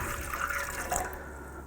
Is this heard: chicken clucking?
no